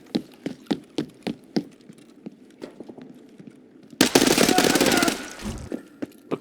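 Distant gunfire from a firefight in Escape from Tarkov, a series of sharp evenly spaced shots, then a loud burst of noise, then more scattered shots.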